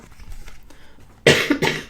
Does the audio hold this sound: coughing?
yes